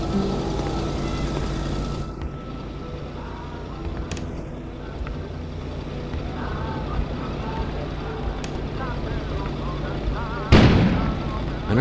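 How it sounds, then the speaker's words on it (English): A single sudden explosion booms near the end, rising over a steady low rumble of ambient noise in the video game Kona, set in a mining town. "An explosion suddenly occurred outside."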